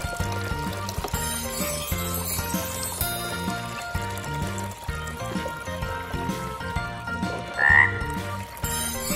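Frogs croak in a steady rhythm over a musical background, with one brief louder call standing out near the end.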